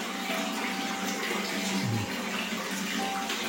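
Water pours steadily out of a homemade, low-cost water filter, a close, continuous rushing flow like a running tap, with no voices.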